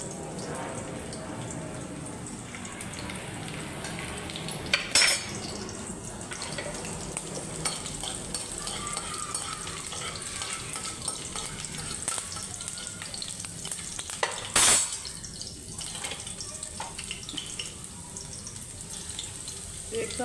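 Garlic frying in oil with cumin for a plain salted vegetable dish crackles in a loud, constant sizzle, broken by a couple of sharp scraping or clattering bursts from stirring.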